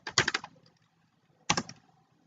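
Typing on a computer keyboard in a quiet room: a quick cluster of clicking keystrokes, a pause of about a second, then a second short burst of clicks, close and fairly loud.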